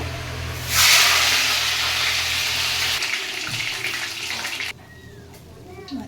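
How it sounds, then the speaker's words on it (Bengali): A fish head hits hot oil in a wok and a loud hissing sizzle bursts out, holding steady for several seconds before abruptly dropping to a quieter crackle. "মাছের মাথাটাকে ভেজে তুলে নেব"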